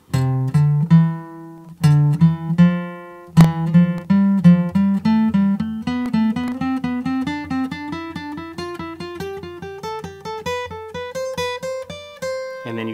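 A guitar plays a rising scale in repeating three-note groups, clean single notes climbing steadily higher without pause.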